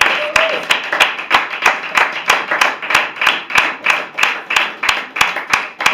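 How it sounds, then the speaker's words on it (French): A congregation at a worship service claps in a steady, even rhythm, each sharp clap landing about every half second, loud and close, with a short sung or spoken voice faintly under it at the start. "peut continuer à acclamer notre Seigneur."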